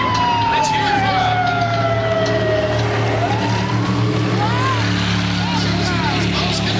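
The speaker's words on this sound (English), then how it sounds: "we also have good guys coming down this center of the yard in our blue and white police car boat" A police boat's siren at a Universal Studios stunt show wails loudly, sweeping down in pitch over roaring engine noise, with crowd and announcer sounds underneath.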